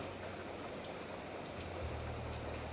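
Heavy rain falls outside a house, heard from indoors as a steady, even hiss of drops with no voices, holding constant throughout.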